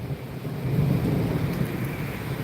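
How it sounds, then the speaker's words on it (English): Rain comes down with a low, rolling rumble of thunder that swells and fades over a couple of seconds, a steady outdoor wash with no voices. "It's raining."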